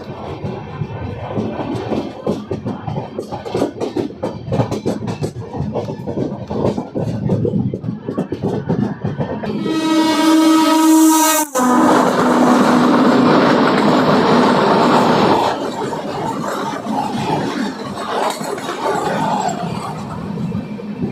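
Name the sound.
intercity express train running on rails after departing station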